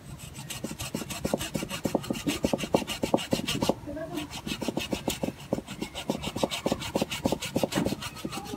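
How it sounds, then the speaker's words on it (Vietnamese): Sawing through the trunk of a small rock-clinging mini bonsai with a hand saw, close and steady back-and-forth rasping strokes in an even rhythm, with one brief pause midway. "cưa cái cổ kia đi, giật lại cái ngọn mới đấy"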